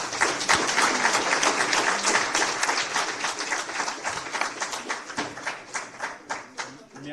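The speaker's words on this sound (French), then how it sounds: "de le remercier à nouveau et de l'applaudir" An audience at an award ceremony applauds with dense, sustained clapping that gradually thins into more separate claps, fairly close and filling the whole stretch.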